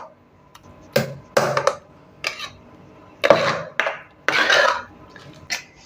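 Metal scraping and clinking of a ladle against pots in several short bursts as sambar rice is transferred into another pot, close and fairly loud, with quiet pauses between.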